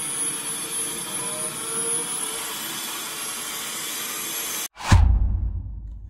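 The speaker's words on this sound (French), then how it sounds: "je vais tester la qualité de l'aspiration du robot grâce à cette plaque de verre" A Tozima W2 budget window-cleaning robot runs its suction motor with a steady close whine, then abruptly cuts out before a loud thump and rushing burst of air follows.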